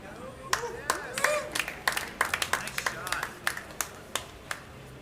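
Crowd at a mixed doubles pool match clapping after a shot, scattered, uneven handclaps from a modest audience that pop out sharply over an ongoing voice.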